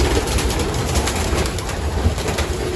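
Pigeons in a loft and aviary give a dense, loud chorus of cooing and fluttering, close and constant throughout, with no talk.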